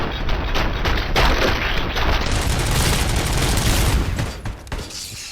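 Dense, continuous gunfire and booming blasts in the video game Robocop Rogue City, loud and sustained with overlapping shots and explosions that ease off near the end.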